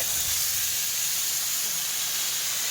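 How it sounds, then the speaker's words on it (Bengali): Chopped onion and crushed garlic hit hot oil with dry chillies and black cumin in a home kitchen, a loud, continuous broadband sizzle with no talking. "তো এবারে দিয়ে দেবো পেঁয়াজ কুচি আর রসুন থেতো।"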